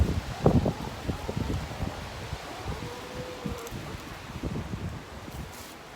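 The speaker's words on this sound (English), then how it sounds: "very windy, isn't it?" Gusty wind buffets the microphone in low rumbling bursts, with rustling in the background and a faint tonal whine drifting through.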